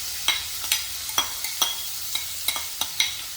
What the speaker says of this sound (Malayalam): ആ എണ്ണയിലേക്ക് ഞാൻ എടുത്തിട്ടുള്ളത് ഒരു 3 സവാളയാണ്. അത് നമുക്ക് അതിനകത്തിട്ട് വഴറ്റിയെടുക്കാം.